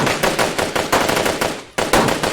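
Loud, continuous machine gun fire rattles in rapid bursts in an anime episode, with a brief break before the shooting resumes.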